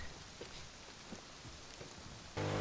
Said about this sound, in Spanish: Es que está lloviendo